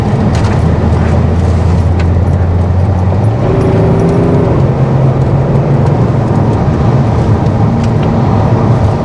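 BMW E60 with the M57 diesel engine on the move, a steady loud low drone heard from inside with a tone that shifts partway through, continuous with no pauses.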